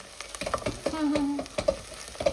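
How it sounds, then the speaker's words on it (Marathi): Garlic and ginger hit browned onions in a hot pan, giving a lively sizzle with quick rhythmic stirring scrapes and clinks of a spoon against the pan, close and fairly loud. "लसूण अद्रक जस्ट मी आता टाकलं"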